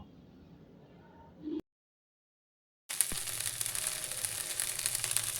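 Broad beans sauté in a pan with salt and turmeric. A faint sizzle cuts to about a second of silence, then returns as a louder, bright, continuous frying hiss up close.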